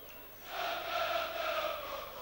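Home fans of Avellino fill a stadium with sustained crowd noise during a Serie C1 football match against Messina, a broad steady roar that swells after the first half-second and holds at a fairly loud level.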